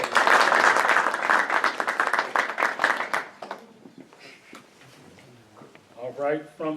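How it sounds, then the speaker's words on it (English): Audience applause for a player honoured at a Philadelphia All-American Game team draft selection show, loud and dense for about three seconds, then thinning to scattered claps as a voice comes in near the end. "Let's give her another round of applause."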